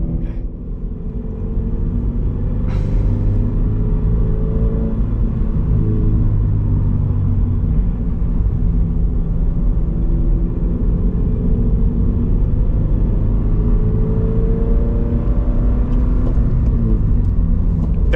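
Subaru BRZ with a manual gearbox driving in second gear, a steady loud low engine drone with droning harmonics that shift slightly as it pulls, continuous from start to end with no talk.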